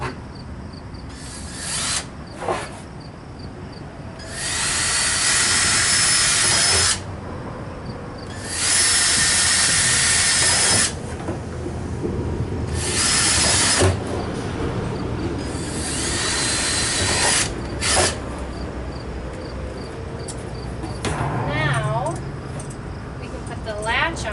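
Power drill boring into a plastic compost tumbler barrel, several loud bursts of whirring at intervals, with background noise and quieter stretches between runs.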